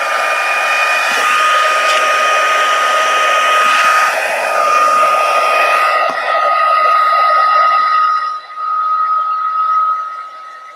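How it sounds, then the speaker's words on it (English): A handheld heat tool blows a loud, steady whooshing hum while heat-setting embossed ink on a papercraft card, then cuts off and briefly winds down near the end, close and alone without talk. "I'm going to go ahead and heat set this."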